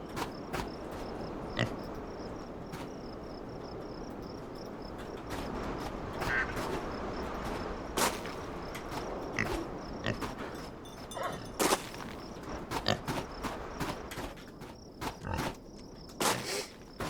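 Pigs on a farm in the video game Farm Together, with repeated short grunts and snorts popping over a steady hum of farmyard ambience.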